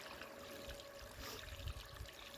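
Murky green water, gone foul in a container left without its plastic tarp, trickles and pours steadily out as the container drains, a soft continuous watery flow with gurgling near the end.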